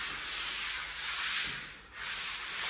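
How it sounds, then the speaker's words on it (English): Steady abrasive rasping of sandpaper on a painted surface in a flat, continuous with a few brief dips as strokes change direction, close and fairly loud. "he's like sanding them back down"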